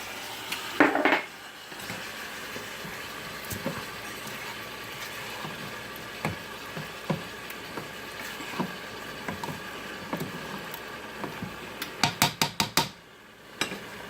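A spoon clatters and scrapes in a pot while lasagna sauce is stirred, with scattered faint taps, then a rapid run of sharp metallic knocks near the end. No one speaks.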